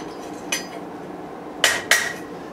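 A hammer strikes a bent rebar hook on an anvil, three sharp metallic rings: one single blow, then a quick pair close together, each ringing briefly and fading into quiet.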